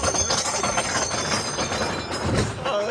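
Mine train roller coaster at Six Flags Over Georgia rumbling along its track, a steady loud clattering roar of cars and wheels with rattles and a brief screech near the end, no talk.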